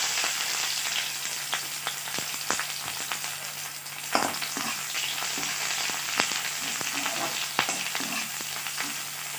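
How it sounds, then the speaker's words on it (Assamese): Onions sizzling and frying in hot oil with whole cumin seeds, a steady close crackle with occasional sharper pops and stirring clicks, no talking, for an Assamese jackfruit seed and banana flower stir-fry. "এতিয়া দিছোঁ পিঁয়াজ।"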